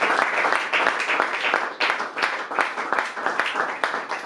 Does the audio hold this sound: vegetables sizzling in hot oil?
no